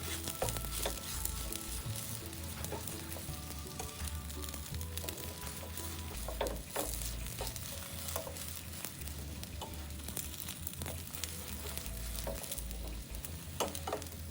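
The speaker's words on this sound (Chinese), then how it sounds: "饼煎至完全成熟后，边缘会稍稍翘起" Shrimp pancake batter fries in a pan with a soft, steady sizzle, broken by light scattered clicks and scrapes of a utensil. The sound is quiet and close, with no voices.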